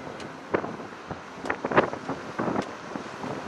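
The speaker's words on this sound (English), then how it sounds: "The wind is blowing really strong today." Strong wind gusts buffet the microphone along the Cliff Walk near the Pell Bridge, with uneven rumbling bursts and brief louder swells over a low roar, no speech.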